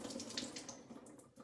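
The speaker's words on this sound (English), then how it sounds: "I always rinse it just because that's what I do" Tap water runs steadily into a kitchen sink while food is rinsed, a soft continuous splashing with no talk.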